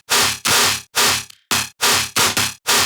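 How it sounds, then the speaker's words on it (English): A Serum-made dubstep FM bass built from a square wave modulated by a monster wavetable, for a metal dubstep drop, blasts in loud, harsh, gritty bursts, about eight chopped stabs in a fast rhythmic pattern with no talking. "this bass is a simple FM bass using a square wave and a monster wavetable for the FM"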